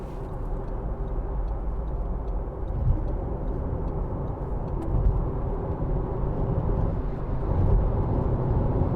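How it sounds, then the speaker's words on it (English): A 2015 Audi A1 1.4 TFSI Sport S Tronic accelerating at motorway speed, heard from inside as a steady, loud engine drone mixed with road and wind rumble that swells slightly toward the end. "Plenty of acceleration, even at motorway speeds, so you're not tapped out at 70 miles an hour."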